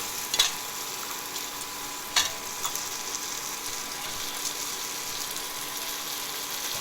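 Goat head meat sautés in a pan with a continuous even sizzle, close and steady, with a couple of brief sharp clicks of a spoon or ladle early on.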